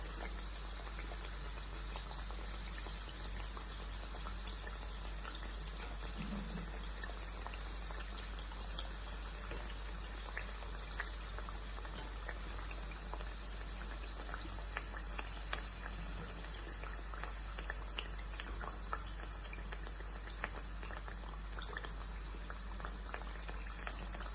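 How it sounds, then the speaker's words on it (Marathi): Chandrakala sweets fry in hot oil, giving a soft, steady crackle and bubbling that runs faintly and evenly throughout with no voices. "असं हलवून घ्यायचं छान तेलामध्ये फ्राय करून घ्यायचे"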